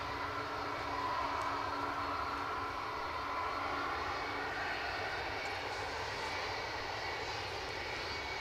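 An Air France airliner departs from Edinburgh Airport, its jet engines roaring steadily as a broad, continuous rumble and hiss that stays loud and unbroken throughout, with no voices.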